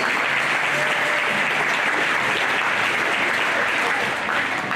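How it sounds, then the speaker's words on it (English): An audience at a 2014 junior state championships awards ceremony breaks into loud, sustained, dense applause from many hands, steady throughout with no speech over it. "give yourself a round of applause"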